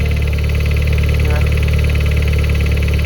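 A Toyota MR2 engine runs in a workshop, a loud, steady mechanical drone with a rhythmic chuffing pulse throughout, close up and continuous.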